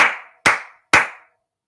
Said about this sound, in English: Regular clap,